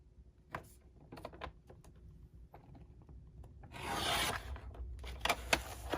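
Card stock pieces for a tri-fold folio are cut by hand, giving soft rubbing and scraping strokes with a few sharp taps, then a louder rasping swipe near the end, close and quiet with no talking.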